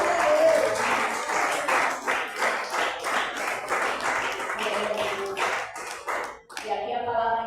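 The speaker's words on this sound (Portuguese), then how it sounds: "E as palmas exaltam o nosso Senhor" A church congregation claps steadily together in praise, a dense rhythmic wash of hands that holds for several seconds before breaking off near the end, with voices mixed in.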